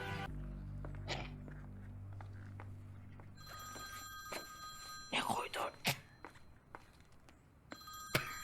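Telephone bell ringing in a Turkish TV scene, a bright repeated electronic ring emerging midway and continuing in bursts amid footsteps, thumps and people talking.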